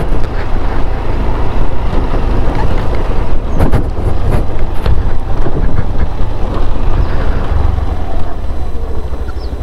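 Riding a Suzuki Access 125 scooter on a highway, with a loud steady rush of wind buffeting the microphone over a low engine drone, and a brief rattling burst partway through.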